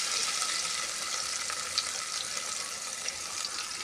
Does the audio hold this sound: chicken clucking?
no